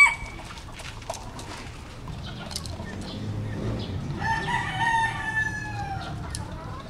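Roosters kept as backyard gamefowl, including Lemon Sweater and White Kelso birds, crow repeatedly. The crows are moderately close, with clucking fowl and farmyard background noise around them.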